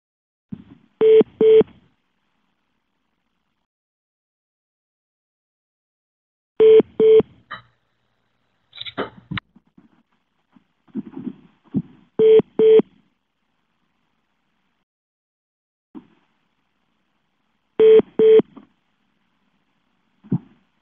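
A phone line joining a webinar sends touch-tone dialing bursts, quick paired beeps repeated in clusters every few seconds, with faint scattered clicks and noise between them and no talking.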